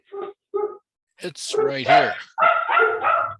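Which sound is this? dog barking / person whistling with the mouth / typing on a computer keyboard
dog barking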